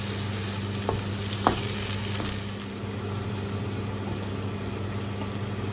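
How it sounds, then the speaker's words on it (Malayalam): Chicken korma frying on a medium flame gives a steady hiss and sizzle, broken by a couple of brief scrapes as it is stirred in the pan. "എന്നിട്ട് നന്നായിട്ട് മിക്സ് ചെയ്ത് കൊടുക്കാം"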